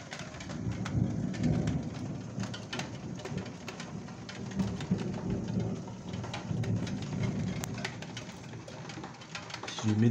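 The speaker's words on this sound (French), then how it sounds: "Ah, les rideaux de pluie arrivent, ça va bien." Heavy thunderstorm in Calvados, France, with dense rain pouring steadily on surfaces and thunder rumbling low throughout, the downpour loud and continuous from start to finish.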